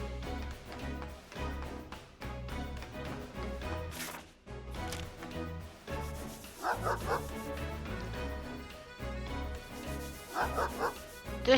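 Dog in the video game Chained Echoes barking repeatedly in short yipping bursts, with a few whimpers, over a steady looping game music backdrop; the barks fall in clustered rhythmic groups throughout.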